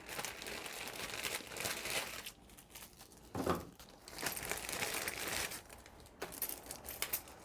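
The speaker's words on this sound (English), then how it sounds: "Open up our tool bag here." Tool bag being opened while unboxing a Prusa Core One 3D printer: close crinkly rustling and rummaging in bursts, with a few brief clacks and short pauses, no speech.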